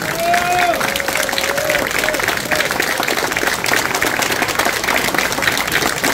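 Warm applause from a concert audience after a wind orchestra performance from Gorzów, steady clapping throughout with a faint sustained tone and some voices mixed in at the start.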